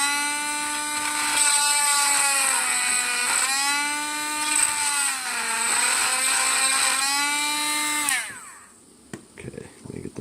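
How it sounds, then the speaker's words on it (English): A small high-pitched drill bores a magnet hole into the bottom of a round flight-stand base, whining steadily for about eight seconds with pitch dipping under load, then stopping, followed by faint clicks. "if you want a magnet in the bottom of your round, you have to drill out a hole for it"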